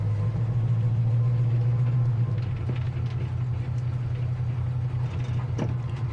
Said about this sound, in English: Power steering works well, and it idles nice too.